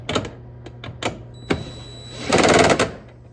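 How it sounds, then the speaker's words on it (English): An impact wrench fitted with a 1/2-inch socket tightens a nylock nut on a Land Rover Discovery model toy, giving a few short clicking taps and then a loud rattling burst of about half a second, close up. "We'll switch back to the 1/2-inch wrench and impact."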